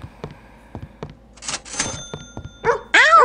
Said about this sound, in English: You always gotta watch out for the doggos